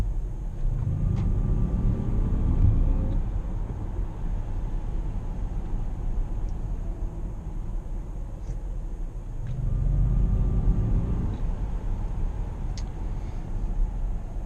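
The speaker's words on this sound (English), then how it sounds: "Here it's called active ljuddesign, active sound design." Synthesized motor hum from a 2019 Jaguar I-Pace First Edition electric SUV in dynamic mode, a low steady drone that swells twice while driving, with constant road rumble underneath and no talking.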